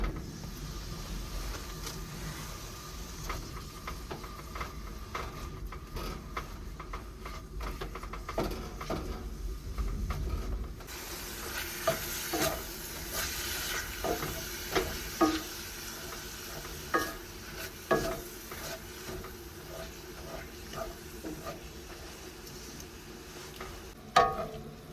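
A pound of beef fries and sizzles in a pan at a cold-weather truck camp in a parking lot, with steady broadband hiss, occasional sharp pops, and stirring scrapes that sit close and fairly loud throughout.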